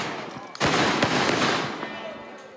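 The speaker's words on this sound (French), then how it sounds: "On tire donc des balles à blanc." Blank rounds go off in a Corsican Easter tradition. A loud, sharp burst of gunfire cracks, then a second shot follows, echoing and fading outdoors.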